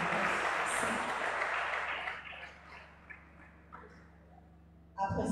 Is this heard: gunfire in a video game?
no